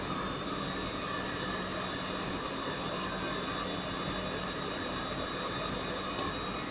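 A three-phase electric motor hums steadily and loudly on an unbalanced-current test bench, a constant broadband drone with a faint tonal whine that holds unchanged throughout, no voices over it.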